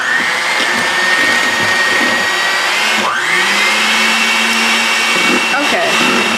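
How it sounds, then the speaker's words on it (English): A hand mixer whirs loudly and steadily as it beats gingerbread cheesecake batter until light and fluffy. Its motor hum wavers slightly in pitch while the beaters churn through the thick mixture, with no pauses throughout. "Now we're going to use our hand mixer and beat this until it's light and fluffy."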